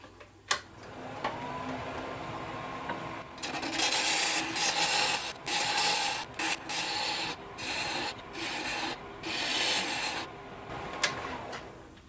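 A chisel pares wood while a door stop is being made, giving a series of soft rasping, scraping strokes in short bursts at moderate, close range.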